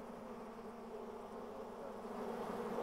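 Honeybees buzzing inside a hive of up to 30,000 bees, a dense, steady hum that swells slightly louder toward the end, with no voices.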